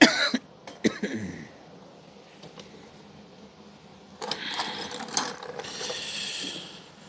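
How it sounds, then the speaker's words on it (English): A socket ratchet clicks in short bursts at close range while working on 17, 19 and 20 millimeter fittings, with brief throat-clearing sounds early and a denser run of ratcheting near the end. "Ratchet extraordinaire."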